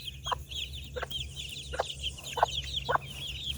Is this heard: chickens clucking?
yes